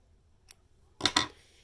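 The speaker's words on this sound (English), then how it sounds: "When you go to cut your thread," Scissors snip through sewing thread while a cloth button is being prepared, two quick close crisp cuts in a quiet room, preceded by a faint small click.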